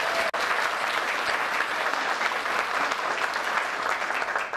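Steady audience applause fills a graduation ceremony for environmental guards, dense and even clapping continuing without a break from start to finish.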